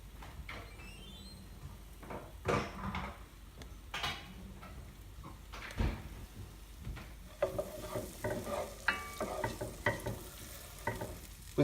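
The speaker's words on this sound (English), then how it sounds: "we're going to add the onions straight in" Onions for chilli con carne sizzle and soften in a pan, with irregular stirring scrapes and taps over a continuous frying hiss, close by and without any voices.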